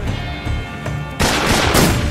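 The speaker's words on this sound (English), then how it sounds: "Shot." A gunshot rings out in Metal Gear Solid 3: Snake Eater, a sudden loud blast halfway through that gives way to a dense, rumbling burst of gunfire and reverberating noise.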